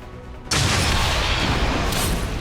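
A sudden, loud explosion from the video game XCOM 2 bursts in and stays as a dense, sustained roar for about two seconds.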